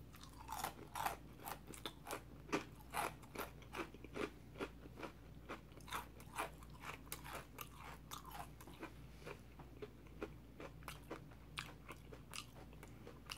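Crunchy chewing of Long John Silver's fried fish and chips, close-miked, with steady rapid bites and crackling crunches repeating throughout and no talking.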